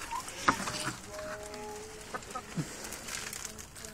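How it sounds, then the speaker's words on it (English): Chickens cluck and call inside their coop, with scattered short bird calls and a sharp sound near the start over a quiet farmyard background. "This is where the new chickens live."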